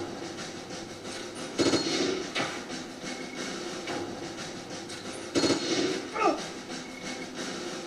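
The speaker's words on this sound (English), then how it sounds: "Did you just try to shoot a tank with a handgun?" Handgun shots fired at a tank in Metal Gear Solid: Peace Walker ring out as two sharp, loud cracks a few seconds apart over a murky game soundscape with low rumbling and metallic clanks.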